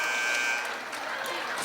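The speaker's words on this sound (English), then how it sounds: "foul whistled on Morgan Mashing at the buzzer." During a high school girls' basketball game between Harlan and Kuemper, the game clock buzzer sounds as a thin, steady tone in the first half-second, partly masked by gym crowd noise that carries on after it.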